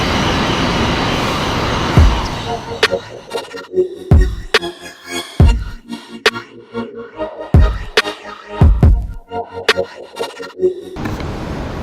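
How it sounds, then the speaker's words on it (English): A New York subway train rumbles and clatters past with rhythmic thuds of wheels over rail joints and bursts of metallic screech, loud and close. "There's our train."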